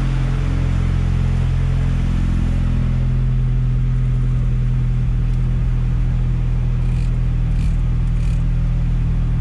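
Fully built turbocharged Mazdaspeed 6 with a PTE 6062 turbo idles at its first start-up, a loud, steady, deep engine rumble held close throughout with no talk.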